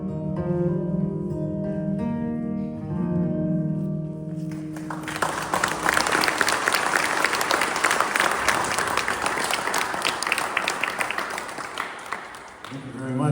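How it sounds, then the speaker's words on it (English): Music fades out and an audience breaks into loud, sustained applause at a live Americana folk concert inside the Widow Jane Mine in Rosendale, New York. The clapping fills the space before tapering off. "when you guys clap, it sounds like there's twice as many"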